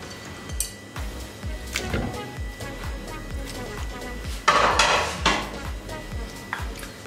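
Pressure cooker and pots handled in a kitchen while making bhuna mutton, with repeated metallic clanks, scrapes and knocks of cookware, under someone speaking throughout.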